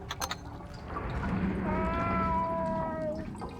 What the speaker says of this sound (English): Pocket Cat is purring loudly.